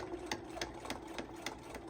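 A sewing machine back-stitching across the strap of a lined tote bag with gussets, a fast regular rattling run of needle strokes, close and fairly quiet, no talking.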